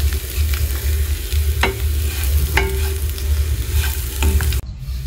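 Boiled eggs and onions fry in a pan with a constant loud sizzle, and a spoon scrapes and stirs at intervals over the bubbling, with no one speaking.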